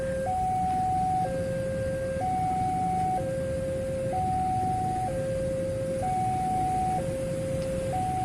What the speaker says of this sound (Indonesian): Ada kereta api melintas, kita berhenti dulu teman-teman.